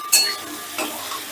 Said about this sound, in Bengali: এবার সমস্তটা আবারও 2 মিনিটের মতন আমি একটু নাড়াচাড়া করে নেব।